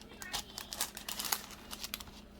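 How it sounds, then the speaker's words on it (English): Paper laid over layered heat transfer vinyl on a fabric mask, giving soft, close crinkling and rustling in irregular bursts with no talk. "And we're going to put our paper on."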